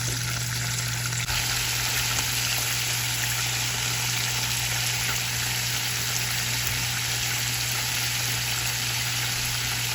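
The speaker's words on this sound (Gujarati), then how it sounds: "તો આને આપણે ઉકાળીશું જ્યાં સુધી આપણે પાણીનો કલર થોડો ચેન્જ ના થઈ જાય ને ત્યાં સુધી આને ઉકાળીશું આપણે" Water with cumin seeds boiling in a pot for jeera rice, a steady loud bubbling and sizzling hiss that runs continuously throughout with no voices.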